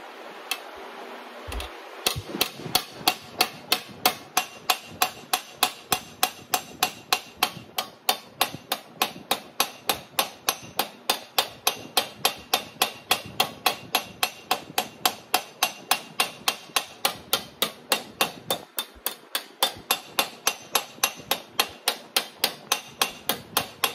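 Steady hammer blows on sheet metal during fabrication of a rear window repair panel for a 1941 Chevrolet, a long run of sharp, evenly spaced metallic strikes, close and loud, with a brief pause near the start.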